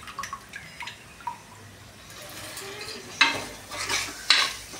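Moth beans tipped into a pan of frying masala paste and stirred: a low sizzle with scattered clinks and scrapes, then louder wet splashes and bursts as the beans hit the pan.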